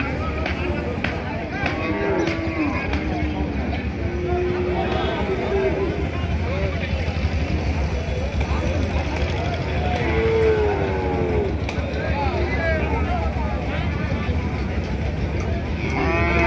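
Cattle low several times at the crowded Paruliya cattle and goat market in Debhata, Satkhira, with drawn-out moos rising over constant crowd chatter and background hum.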